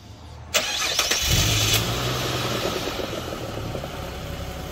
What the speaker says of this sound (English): So just like that, start the car, Joe.